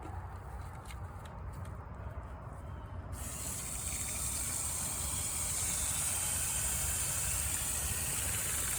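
Water gushes steadily, growing louder and brighter after a few seconds and then pouring on evenly, over a low engine-like rumble.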